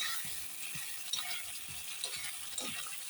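Spice masala of coriander, cumin and turmeric sautéing in a pan for matar paneer, a faint, even sizzle with soft scraping strokes of a spatula recurring every half second or so, close and quiet.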